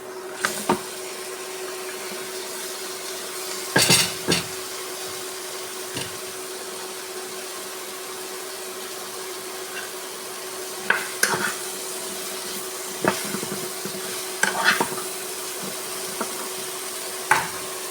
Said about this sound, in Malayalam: നന്നായി വഴറ്റിയെടുക്കാം. ഇതിനകത്തേക്ക് കട്ട് ചെയ്ത് വെച്ച ഗ്രീൻ ആപ്പിൾ ഇട്ട് കൊടുക്കാം.